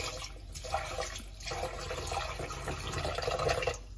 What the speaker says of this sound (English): So I'm adding some water.